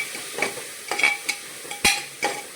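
Vegetables cooking in a pressure cooker pan give off soft sizzling with several sharp metallic clinks and scrapes of stirring, spaced irregularly and close by, with no voices.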